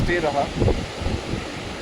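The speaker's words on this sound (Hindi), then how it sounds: "बहुत ही प्यारा शानदार ठंडी हवा चल रही है" Cool wind blowing across a bridge in the Darma Valley of the Himalayas, a steady rushing, buffeting roar against the microphone, with a brief faint voice near the start.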